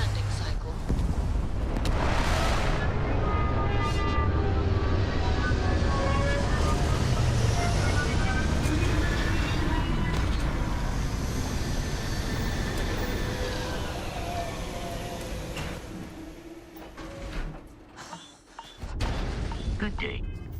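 A spaceship lands in Starfield with a long, loud rumbling roar of engines and rushing thrust, shifting tones sweeping through it, then fading and dropping off near the end with a few final thumps.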